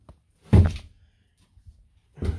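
A door in a fire-damaged house swings shut with a solid thunk, followed by quiet creaks and a second softer bump near the end.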